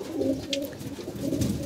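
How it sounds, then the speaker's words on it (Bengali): Pigeons cooing close by while waiting for food on a rainy day, a soft, low, throaty burble that rises and falls continuously, with a faint chirp in the middle. "কবুতর গুলা এখনো খাবারের জন্য করতেছে"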